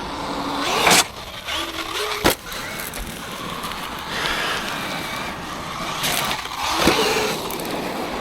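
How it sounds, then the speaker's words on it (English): An Arrma Granite 3S BLX RC car runs with a failing motor fan, giving a steady, close electric whine that shifts in pitch, broken by a few sharp bursts and surges. "now it sounds like the motor fan's gone as well"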